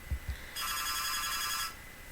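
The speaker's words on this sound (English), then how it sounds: "So sorry about the phone ringing in the background." Telephone ringing in the background indoors, one sustained electronic ring lasting about a second, preceded by a couple of soft low thumps.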